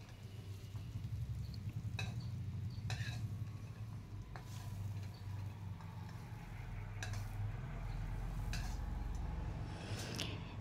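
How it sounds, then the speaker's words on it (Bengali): Teasel gourd (kakrol) frying in a pan, with continuous soft sizzling and occasional sharp clinks and scrapes of a utensil stirring against the pan. "তো আমার কাঁকরোলটা ভাজা হয়ে গেছে।"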